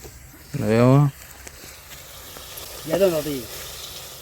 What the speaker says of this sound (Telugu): ఇప్పుడైతే లివర్ వేసుకోవాలి. వేసుకున్నాక కలుపుకోవాలి